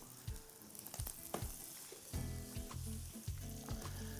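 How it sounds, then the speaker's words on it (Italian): Food sizzles and crackles steadily in a frying pan, a close, continuous hiss with light stirring scrapes and clinks breaking through. "Senti che sta sfrigoleggiando?"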